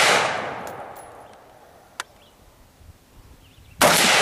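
Shotgun blasts at an outdoor shooting match with red targets, one loud close shot decaying at the start and another sharp report near the end, with a faint metallic target ping between.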